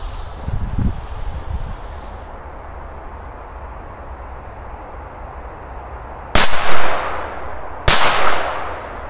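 Two sharp, loud firecracker blasts from a double Korsar 4 about a second and a half apart, each ringing out briefly after a stretch of quiet outdoor rustle.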